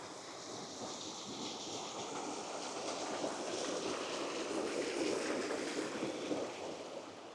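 Water pours steadily over a river weir in a County Tyrone woodland, a broad continuous rushing roar that swells slightly midway, heard from close by with no voices.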